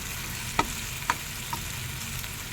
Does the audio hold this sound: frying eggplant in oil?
yes